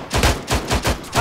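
Automatic gunfire in the military shooter ArmA 3: a steady string of sharp, loud shots at roughly four per second, continuing unbroken for just over a second with no talk.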